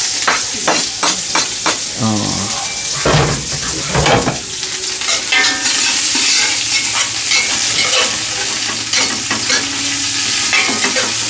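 Loud, dense sizzling of onions frying in a big pot, with repeated scraping and stirring clatter early on, then a steady crackling fry.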